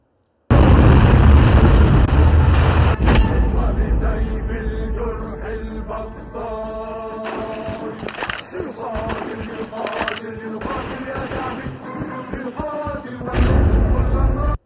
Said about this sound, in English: he's got a tank that fires hand grenades